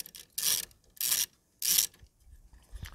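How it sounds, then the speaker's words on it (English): Ratchet wrench with a 13mm socket loosening a bolt during battery work on a Ford Ranger, three close, loud bursts of rapid clicking, each about a third of a second, followed by softer handling clunks. "I'm going to work towards the back using a 13mm socket."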